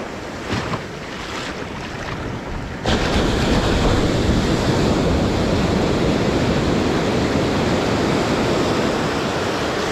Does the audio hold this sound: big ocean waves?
yes